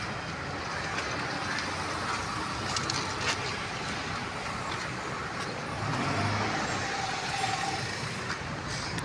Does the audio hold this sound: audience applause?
no